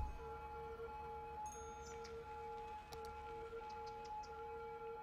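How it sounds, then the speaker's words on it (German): Ambulance siren in the city-builder game Cities: Skylines, a steady wailing tone with faint chirps that holds at moderate level over traffic ambience throughout. "Und da steckt mittendrin ein Krankenwagen."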